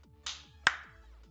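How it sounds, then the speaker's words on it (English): Two sharp hand claps land close and fairly loud about half a second apart, standing out over a quiet indoor hum. "Yes, I can clap for you."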